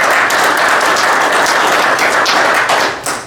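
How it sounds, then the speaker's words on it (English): Applause from attendees at a Jasper city council meeting, a dense steady patter of clapping hands that fills the room and fades out near the end. "Let's give Jay a round of applause."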